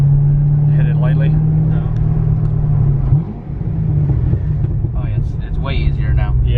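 A Chevrolet Corvette C6 Z06 or ZR1 on a street drones with a steady low engine hum, dipping briefly midway before settling again, while muffled voices talk over it inside the car.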